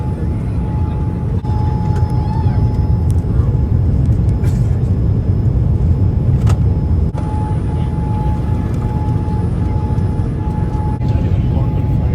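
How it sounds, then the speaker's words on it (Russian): Air India airliner landing at Mumbai, heard from inside the cabin as a steady, loud low rumble and roar with a faint tonal hum, continuous throughout. "Мы приземляемся."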